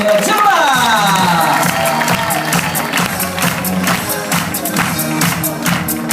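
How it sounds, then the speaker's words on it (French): An audience at the Club Lookéa Playa Djerba resort claps and cheers for the hotel staff, a loud dense wash of applause with whoops and shouts throughout, close and continuous, a voice faintly under it. "On applaudit très fort tout le personnel hôtelier"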